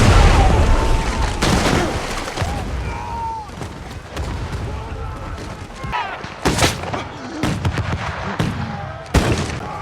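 Heavy booms and cracking gunshots burst out repeatedly over a dense, rumbling battle din, with sharp loud impacts scattered throughout.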